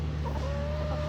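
A broody hen clucks softly near a chicken coop on a homestead, a brief low murmur and rising note heard over a steady low mechanical hum.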